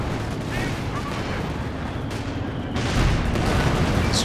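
Dense rocket barrages and artillery in a Company of Heroes 2 4v4 battle, with Katyusha launchers and walking Stuka rockets pounding continuously as a loud, rumbling wash of explosions that swells near the end.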